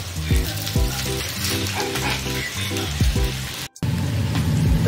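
Veg hakka noodles stir-fried and tossed in a pan, with a steady loud sizzle and repeated scraping, clanking stir strokes, a brief dropout near the end, then the sizzling resumes.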